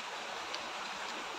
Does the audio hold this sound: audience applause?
no